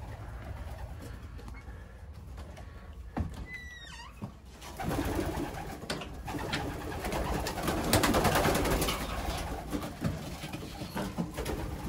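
Soft cooing of several young racing pigeons close by in a loft, with rustling and shuffling movement in the enclosed space growing busier partway through.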